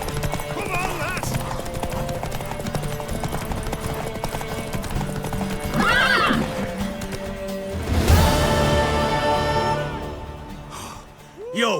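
Horse hooves clip-clop steadily in The Witcher 3, with whinnies and a crash partway through, all under game voices and a continuous music and ambience bed.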